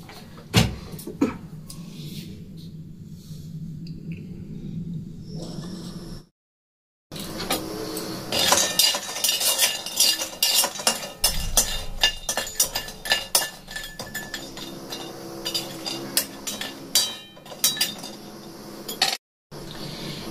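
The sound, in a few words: dry-roasting bori lentil dumplings in a wok, stirring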